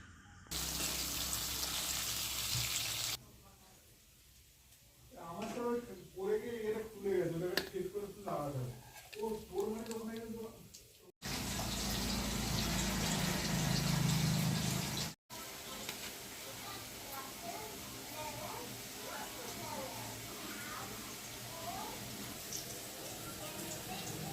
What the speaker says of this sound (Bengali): দেখো বন্ধুরা ভাজাগুলো আমি শুরু করলাম